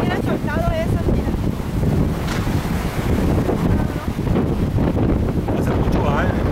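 Strong wind at the sea shore blusters hard against the microphone in a continuous loud roar, with surf in the background and people talking and calling out over it.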